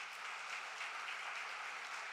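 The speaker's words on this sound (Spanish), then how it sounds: "Denle esas palmas al Señor en esta mañana." A church congregation clapping steadily during a morning service, dense and even throughout, heard from some distance in a large room.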